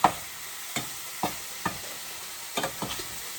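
Liver frying in a pan with a few scattered spatula scrapes and taps as the pieces are flipped over, set against a steady soft sizzle.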